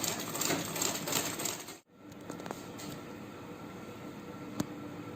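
Vintage Butterfly sewing machine running a straight line of stitching, a steady close mechanical whir that stops briefly, then resumes with faint ticking and a single sharp click.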